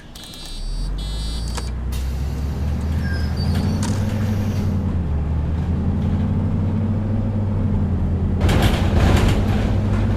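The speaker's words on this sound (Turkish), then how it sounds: "İki kapıyı da açtık. Üçüncü ve orta." Middle and third doors of an articulated Connecto city bus opening in the OMSI 2 simulator: a low, steady diesel idle rumbles throughout, with a brief mechanical clatter early and a loud pneumatic hiss bursting near the end.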